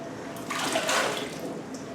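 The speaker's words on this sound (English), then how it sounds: "we're going to wash the beans by placing them in a sink full of cold water" Green beans being washed by hand in a sink full of cold water, a short burst of splashing and sloshing that swells in the middle and then settles.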